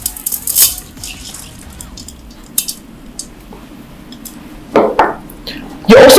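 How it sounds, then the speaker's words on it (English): Washed rice goes into a pot of Nigerian jollof base with oil, heard as a few wet, rustling pours and pot clatters between quieter moments, the last burst loudest and closest. "what you're going to do is add in your washed rice"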